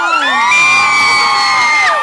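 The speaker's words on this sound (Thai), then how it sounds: "ขอเสียงกรี๊ดดังๆหน่อยแล้ว" Concert audience at Siam Paragon screaming and cheering for a young singer, a loud sustained wall of high-pitched shrieks and whoops from many voices, no talk.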